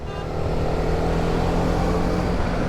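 A 2022 Honda CB300R motorcycle cruises along a highway at steady speed, its engine drone and wind rush loud and continuous with no talking.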